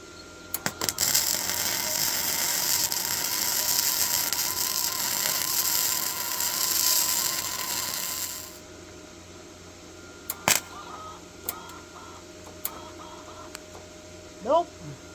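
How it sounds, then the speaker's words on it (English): A welder's wire feeder runs steadily, pushing welding wire through during a diesel race truck build, a continuous mechanical whir for about eight seconds that then stops, followed by a few sharp clicks and brief noises. "Let's see if we can get this wire to feed through again"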